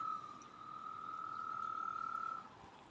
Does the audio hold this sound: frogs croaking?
yes